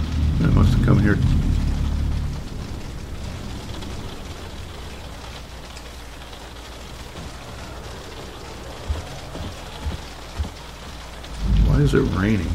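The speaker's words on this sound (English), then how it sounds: "Why is it raining?" Steady rain pours in the game Alien: Isolation, with low rumbling thunder swelling at the start and end; a voice speaks over the downpour at both ends.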